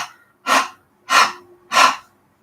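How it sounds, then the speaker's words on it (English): Three forceful exhales driven by the abdominal muscles, each a sharp, breathy puff through the mouth spaced evenly about half a second apart with silence in between. "The forceful exhale using the abs."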